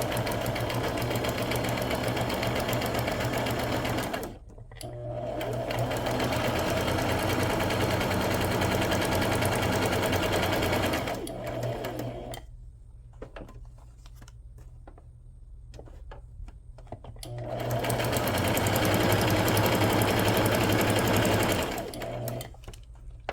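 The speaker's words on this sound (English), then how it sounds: "I'm just going to do a straight stitch." A sewing machine runs a straight stitch to sew a pocket shut, with a steady, rapid mechanical whir in three long runs. Short pauses separate the runs, and the machine sounds close and fairly loud.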